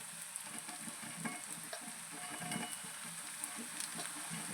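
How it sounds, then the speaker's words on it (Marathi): Onions and cumin seeds frying in oil in a pan, a soft, steady sizzle with faint crackles and occasional stirring scrapes, heard alone and fairly quiet. "आता या जिऱ्याला आपण कांद्यासोबत छान भाजू देऊया"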